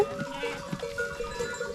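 A goat bleats a few times close by, short wavering cries over a faint outdoor background.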